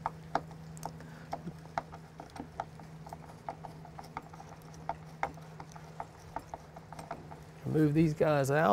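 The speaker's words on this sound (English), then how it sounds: "we're just going to remove these four through bolts, and these are 1/4-20, so it's just going to be a Phillips head screwdriver and a 7/16 socket" Quarter-inch-20 through bolts coming out of an outrigger base with a Phillips screwdriver and a 7/16 socket, a steady run of small ratcheting clicks close up under a low hum, and someone speaks briefly near the end.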